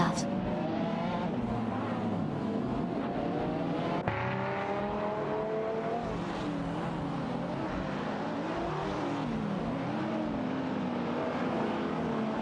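Mosler MT900 and Lamborghini Murcielago SV race cars roaring in a racing video game, with a steady loud engine drone and rising and falling gear-change pitch sweeps throughout, under continuous commentary.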